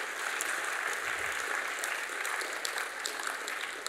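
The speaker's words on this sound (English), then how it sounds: "welcome him once again with a clap of your hands" Steady, dense applause from a seated audience at an academic science workshop, a continuous even wash of clapping at moderate level with no voices over it.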